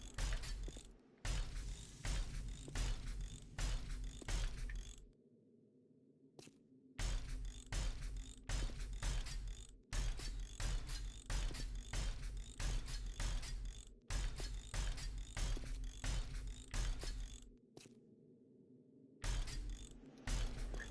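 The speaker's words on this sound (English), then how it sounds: "I don't know where that little socket wrench noise is coming from" A repetitive ratcheting, socket-wrench-like clicking in the game 7 Days to Die, rapid mechanical bursts in several runs separated by short pauses, alone with no talk.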